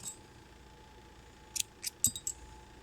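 Scissors snipping crochet yarn: four or five quick, crisp metallic clicks in close succession after a quiet stretch, near and fairly soft over a faint background hum.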